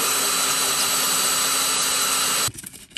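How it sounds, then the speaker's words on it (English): A power drill bores a small hole through a camper van floor for a diesel heater fuel pipe, a steady, loud whirring grind that runs for about two and a half seconds before cutting off abruptly. "I need to drill another small hole here for the fuel pipe to come back through"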